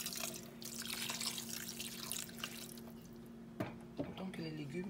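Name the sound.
water poured into fish broth pot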